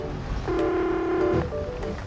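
Telephone dialing tones, a single sustained beep of about a second with short faint tones before and after, close and clear, with no talking.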